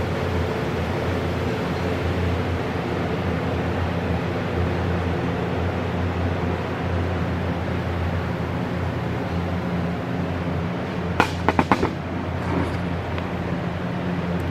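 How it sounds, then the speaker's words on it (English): A steady, even rush of air through the engine of a Lake Buccaneer amphibious aircraft, a broad roar held constant throughout, with a few brief metallic clicks near the end. "you can hear the air going through."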